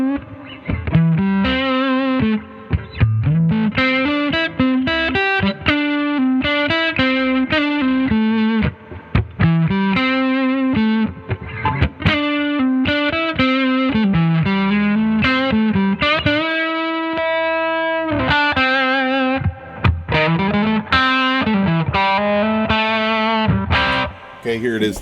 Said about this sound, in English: Back to the Fender, we're going to try the Noble's ODR Mini.